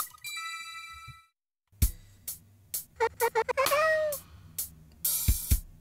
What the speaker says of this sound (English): Oh, look, kitty noises!